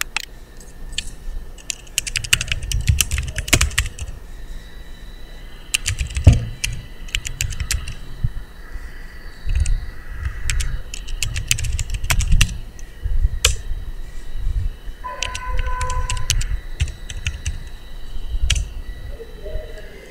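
Keys tapped on a computer keyboard while entering a verification code, coming in irregular bursts of clicks with short pauses, moderately close, with faint background noise and no talking.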